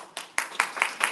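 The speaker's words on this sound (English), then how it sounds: "Don't clap. It shouldn't deserve a clap." Scattered audience clapping at a North Port city commission forum, a few sharp claps spaced apart, fairly faint and brief.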